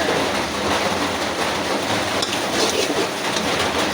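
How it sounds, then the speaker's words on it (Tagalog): Steady rain falls outside during home cooking, a dense, continuous hiss that stays even and fairly loud throughout, with no voices. "Diyan na guys, maingay, maulan eh."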